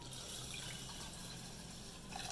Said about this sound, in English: I'm going to add around like 2 cups of water into it